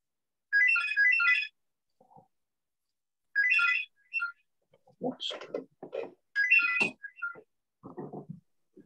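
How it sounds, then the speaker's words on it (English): A telephone ringtone rings in bursts, then people talk over and around it, their voices mixing with a further ring midway through. "We all got up to answer the phone then."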